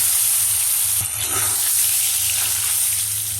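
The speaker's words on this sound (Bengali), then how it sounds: "পনিরের মধ্যে অল্প একটু হলুদ আর অল্প একটু লবণ দিয়ে ভেজে নেব" Paneer pieces seasoned with turmeric and salt fry in hot oil in a kadai, giving a loud, continuous sizzle. The hiss stays close and steady for a few seconds.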